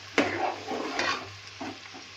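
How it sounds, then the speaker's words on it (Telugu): Ingredients frying in oil in a pan for a bitter-vegetable dish: a soft, steady sizzle broken by a few sharp clinks and scrapes of stirring, fairly quiet and close. "ఇలా మొత్తం కూడా నూనెలో వేగాలి ఇలా చక్కగా అన్నీ నూనెలో వేయండి ఇలా మనకి ఫ్రై అయిందాక చక్కగా వేయించాలి"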